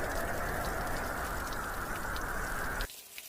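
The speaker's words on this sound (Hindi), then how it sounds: "कुछ ही देर में घनघोर बारिश शुरू हो जाती है" Heavy, steady downpour of rain, loud and dense, hissing continuously for nearly three seconds before cutting off abruptly, used as a sound effect in a Hindi animated village story.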